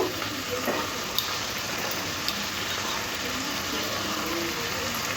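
Ginger and garlic sauté in a pan with tomato and onion, giving a steady close sizzle and frying hiss with a few faint clicks of stirring, no voices.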